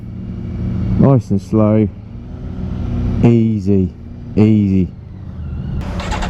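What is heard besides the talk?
BMW K1600 GT motorcycle engine revving at slow crawl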